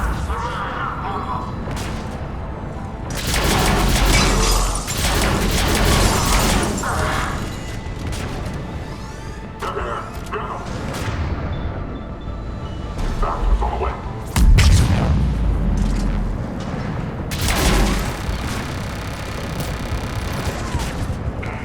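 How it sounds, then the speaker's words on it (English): Cannon fire and explosions in the video game Mass Effect 3, with heavy booming blasts, rumbling impacts and bursts of gunfire coming in repeated loud waves throughout, layered with dense battle noise. "Those cannons have to be stopped."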